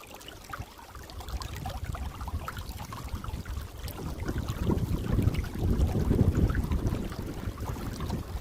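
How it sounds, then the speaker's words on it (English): Wind buffets the microphone while kayaking and catfishing on the water in Indiana. Rough, rumbling gusts roar throughout, swelling louder toward the middle and later part, close and continuous with no voices. "I hope that wind's not too bad, you guys."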